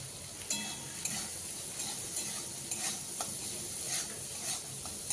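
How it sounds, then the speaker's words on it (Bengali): Green tomatoes seasoned with salt and turmeric sauté in a pan, giving a steady close sizzle with scraping stirs and a few sharper clinks of the spoon against the metal. "টমেটোগুলো আমি দু থেকে তিন মিনিটের মতো সময় ধরে কষিয়ে নেব"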